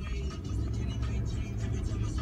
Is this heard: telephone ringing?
no